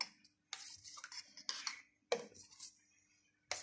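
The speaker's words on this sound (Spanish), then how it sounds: "Vamos a echar un poquito, poco a poquito, la leche y removemos despacito" Milk is stirred slowly into a pasta sauce for multigrain macaroni and cheese, heard as intermittent scraping and clinking of a utensil against a pot, with quiet gaps between the short, fairly close strokes.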